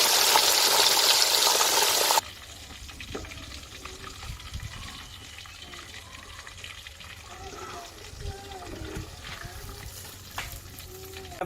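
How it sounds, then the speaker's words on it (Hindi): Spiced fish half-frying in a pan, a loud bright sizzle for the first two seconds that drops to a quieter bubbling fry with a voice talking over it. "फुल फ्राई नहीं करना, हाफ फ्राई करेंगे।"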